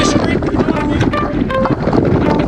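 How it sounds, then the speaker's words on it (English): Loud, constant wind buffeting a microphone while cycling on a group ride, roaring and gusting throughout with no clear speech. "give me thumbs up because it's windy"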